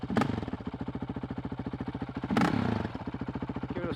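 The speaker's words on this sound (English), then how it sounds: "we're going to see if I can kill the bike by just blipping the throttle." A warmed-up Honda CRF450RL dirt bike engine idles with a fast, even pulse, and the throttle is blipped twice into short, loud revs before the engine settles back to idle, close up.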